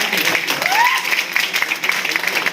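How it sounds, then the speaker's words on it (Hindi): An audience gives loud, enthusiastic applause to welcome a guest speaker, a continuous dense clapping wash with some voices mixed in. "जोरदार तालियां"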